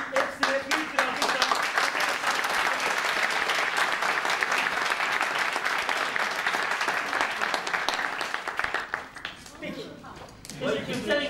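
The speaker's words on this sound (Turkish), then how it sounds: "Hepsine büyük bir alkış." A big round of applause from an audience thanks the contributors, dense clapping that runs steadily for several seconds and then thins out toward the end.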